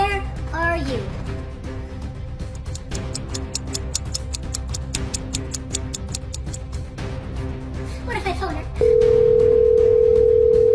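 A telephone call ringing out on a phone, with a rapid run of ticking beeps and a steady tone that turns into a long, loud beep toward the end, while voices talk over the start.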